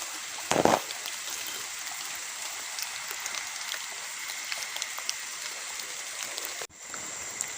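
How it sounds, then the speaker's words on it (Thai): Rain falls outdoors at night in a rural field with a steady soft hiss of drops, a brief louder rustling splash early on, and a faint continuous insect-like whine behind it. "ฝนก็ตก"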